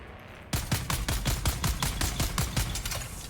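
Rapid semi-automatic gunfire in the video game Dune: Awakening, a steady stream of about fifteen loud, sharp shots at an even pace that starts abruptly after a brief quiet moment.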